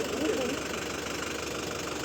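A vehicle engine runs at a steady idle, a continuous close hum with a slight knocking texture, and a voice briefly sounds at the start.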